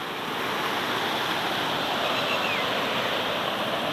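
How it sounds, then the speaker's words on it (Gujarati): Water pours down a waterfall and flows away in a steady, loud, unbroken rush of broad noise that stays constant from start to finish. "આ પાણી પડે ને સીધે સીધું આમ નીકળી જાય"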